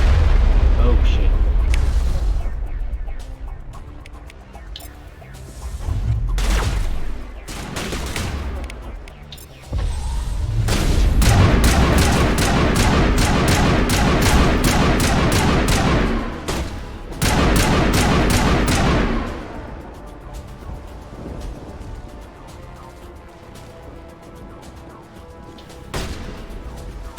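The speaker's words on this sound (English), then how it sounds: "We must find a way to disable their artillery." Enemy artillery fire in Mass Effect Legendary Edition on Virmire: heavy booms and rolling blasts hammer away in loud bursts, with rapid gunfire and stretches of quieter rumble between them, and voices occasionally heard.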